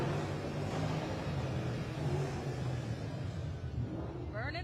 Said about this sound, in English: They are revving.